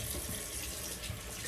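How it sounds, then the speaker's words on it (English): Spray bottle misting warm water onto hair while styling a wash and go, a steady, close hiss of fine spray running continuously and alone. "Just spray it."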